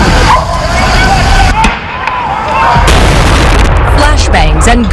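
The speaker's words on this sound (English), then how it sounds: "Flashbangs and gunshots caught on exclusive video from our ABC affiliate WFAA." Flashbangs and gunshots during a hostage standoff, loud booming bursts and sharp reports over a roaring, distorted background, heard from a distance with chaotic noise throughout.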